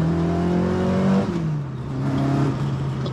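A classic Ford Mk1 Cortina engine revs close by, a steady loud drone that rises, drops briefly, then climbs again in pitch.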